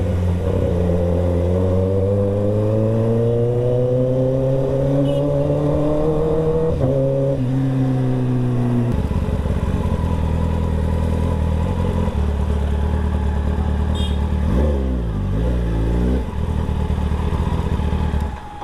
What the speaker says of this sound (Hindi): क्या आवाज आता है ना 10R का।